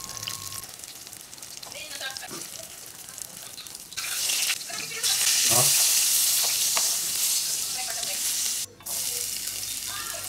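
Tofu and eggplant pieces fry one by one in hot oil for kare-kare, a continuous close sizzle that swells louder midway, with occasional clinks and stirring.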